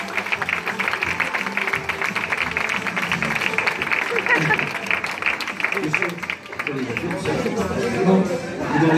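Applause fills the room at a hypnosis show, a thick, continuous clatter of many hands close by, mixed with crowd chatter and voices.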